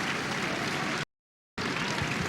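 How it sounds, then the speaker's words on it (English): Stadium crowd at a Cork v Kerry Munster football final applauding an injured player being stretchered off: a broad, steady wash of clapping and crowd noise, cut by a half-second gap of silence, then resuming at the same level. "a warm round of applause now for Rory Dean as he is stretchered off"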